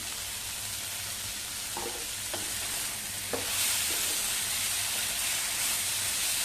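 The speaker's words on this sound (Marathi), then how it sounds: "चांगला परतवून घेऊया" Pumpkin with coriander stir-fries in a pan, a constant loud sizzling hiss that swells slightly after a few seconds, with a handful of faint spatula scrapes and taps partway through.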